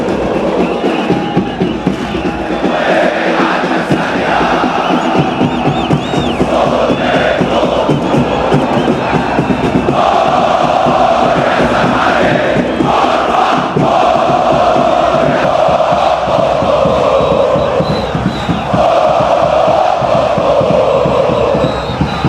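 A packed stadium of Zamalek football fans roars and chants continuously at a match, a loud, dense wall of crowd voices with rising sung chants.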